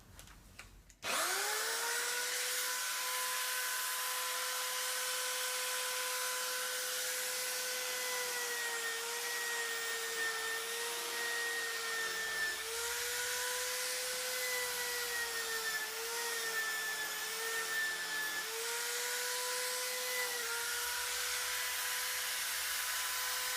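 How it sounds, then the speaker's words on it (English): An electric drill spins up abruptly and whines steadily at high speed for a long stretch, its pitch dipping slightly now and then under load. "I'm using an electric drill, so it spins up nice and quickly."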